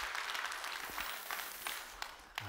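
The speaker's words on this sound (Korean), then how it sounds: "하나님 앞에 영광의 박수 한번 하실까요?" Church congregation applauding during a Wednesday sermon service, a dense steady wash of clapping from many hands, with a few sharper claps near the end.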